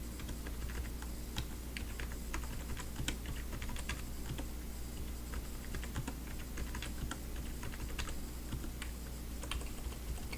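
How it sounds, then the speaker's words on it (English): Steady, rapid typing on a computer keyboard while values are entered into an Excel spreadsheet, the dense key clicks continuing for the whole stretch with no voices over them. "these values are given, so simply type them."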